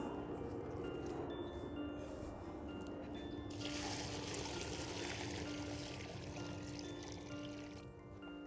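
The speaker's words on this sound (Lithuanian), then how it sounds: "Ir vėl gausiai paliejame." Water is poured generously around the base of a newly planted fruit tree during autumn planting, a steady splashing and trickling stream close by that swells midway through, with no talk over it.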